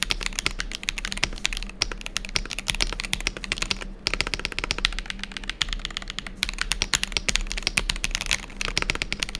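Typing on an MCHOSE Jet 75 Hall effect keyboard: fast, continuous keystrokes heard close up, with a couple of brief pauses between bursts and no voices.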